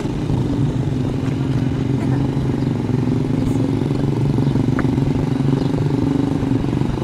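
Motorcycle engines run close by, a continuous rough low rumble with faint clatter that holds steady throughout, with no voices.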